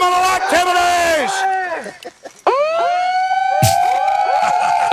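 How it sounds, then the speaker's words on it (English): Several sirens wail loudly at once, their overlapping tones sweeping up and down, with a short dip before they surge back in. "I love the multi-sirens."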